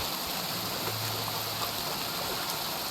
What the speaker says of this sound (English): this little brook or beck or stream or babbling something or other